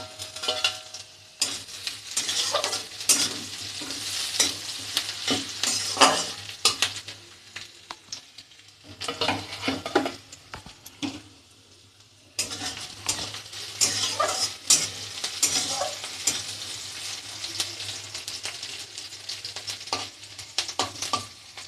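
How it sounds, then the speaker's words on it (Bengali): Chopped onion and green chilli stir-fry in oil in a kadai, giving off a continuous close sizzle broken by repeated scraping strokes of a spatula. A brief lull comes midway, then the stirring resumes, with no voices. "কাঁচা লঙ্কা কুচিটা দিয়ে দেব।"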